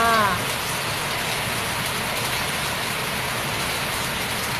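Rain falls steadily as a dense, even hiss of drops on surfaces, continuous and fairly loud throughout, with a brief faint tonal sound at the very start.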